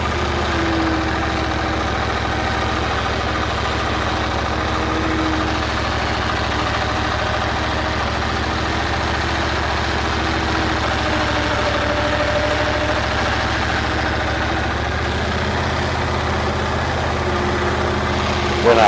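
A lawn mower engine idles steadily close by for the whole stretch, a continuous low droning hum with constant level and no breaks, while mowing goes on around trees.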